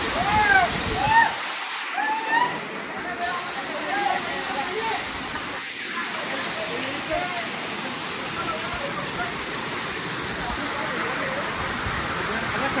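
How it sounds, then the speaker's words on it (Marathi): Waterfall beside the Nane Darwaja gate at Raigad Fort in Maharashtra during monsoon rain, a steady broad rush of falling water and rain, with loud voices talking over it near the start. "अयो धबधबा."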